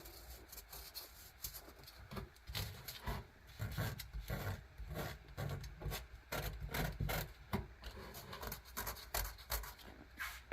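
A Dewalt palm sander works across a wooden surface, giving a steady close-up rasping and rubbing drone with rhythmic scraping pulses throughout and no talking.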